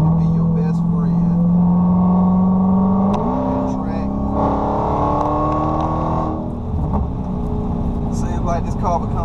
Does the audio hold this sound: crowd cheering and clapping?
no